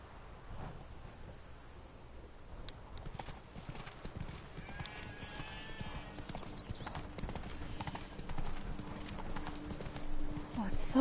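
Roach's hooves clip-clop steadily while riding through The Witcher 3: Blood and Wine, a continuous trotting rhythm under game music and ambient sound, with a voice talking partway through and a brief whinny.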